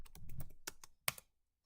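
A computer keyboard is typed on in a quick burst of soft, close key clicks that ends with a sharper final keystroke, then stops.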